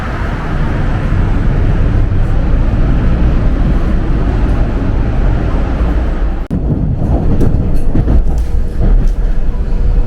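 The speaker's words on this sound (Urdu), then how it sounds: "ڈی سی تک یہ ٹرین ہائی وے کے درمیان سے چلتی ہے اور ڈی سی پہنچتے ہی زیر زمین چلی جاتی ہے." A commuter train bound for Washington DC runs along a highway median, producing a loud, steady rumble with a brief dip partway through before the roar resumes.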